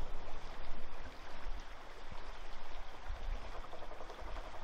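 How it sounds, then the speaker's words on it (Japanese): River water flows steadily in freezing winter cold near Etanbetsu, a soft continuous babble and trickle at moderate distance with no voices. "寒いのに水流れてる。"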